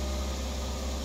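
Cold engine of a 2005 Toyota Vios automatic idling at raised RPM, a steady continuous hum with a broad hiss on top, close and unchanging over the brief moment, no voices.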